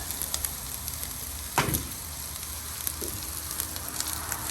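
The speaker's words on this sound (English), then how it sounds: "I'm gonna put my delicious mushrooms over here first." Mushrooms frying in olive oil for Salisbury steak give a steady, even sizzle throughout, with one brief louder burst near the middle as they hit the pan.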